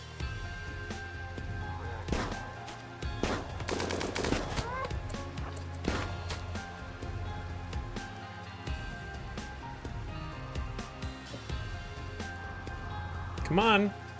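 Gunfire in a RimWorld firefight, with bursts of shots and impacts scattered through the scene over steady game ambience and music, a louder burst near the end, while players talk throughout.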